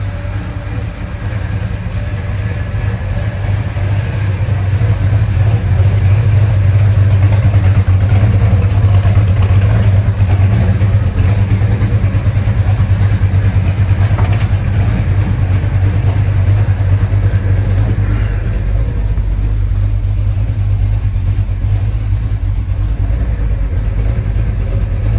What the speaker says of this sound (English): I can hear that power steering pump now